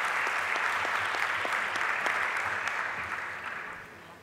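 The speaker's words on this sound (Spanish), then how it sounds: "Pido para ellos un fuerte aplauso." A hall audience at the Delibera 2012 national school debate final in Chile gives a team strong, sustained applause that fades gradually toward the end.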